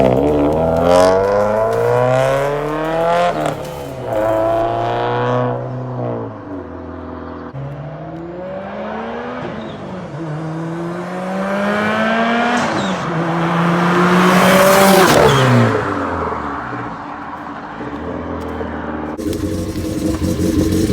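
A modified Subaru WRX pulls away with the engine revving hard through repeated gear changes, rising and falling in pitch and loud throughout, then fading as it drives off.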